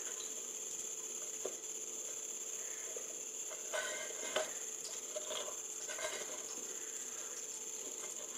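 A puttu steamer lid for rice-rava pittu being twisted off, giving soft ratcheting, scraping clicks in a few short bursts over a steady faint background hiss.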